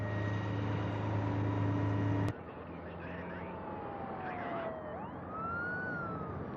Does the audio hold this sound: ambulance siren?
yes